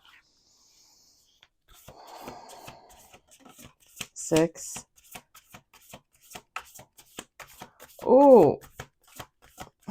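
Cards riffle-shuffled close by, with a loud bridge-and-cascade burst near the end, broken crackling before it, and a short spoken word.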